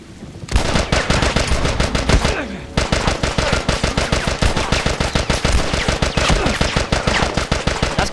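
Rapid bursts of automatic gunfire in The Last of Us on PS3 rattle loudly and nearly nonstop, with a brief pause and a sweeping whoosh midway before the shooting resumes.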